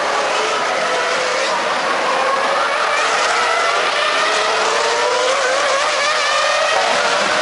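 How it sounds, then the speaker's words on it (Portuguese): Formula 1 race cars at the 2003 Italian Grand Prix roar along the pit straight, a loud continuous high-pitched engine wail with rising and falling pitch sweeps as cars pass close by. "João Pedro abriu o microfone dele ali na reta dos boxes e aí entra um ruído infernal"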